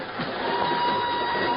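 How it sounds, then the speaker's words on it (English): A northbound train rolls out of Lisbon, giving a steady, loud rumble of rails and carriage noise with a thin constant tone throughout and no talking. "she's aboard a northbound train rolling out of Lisbon"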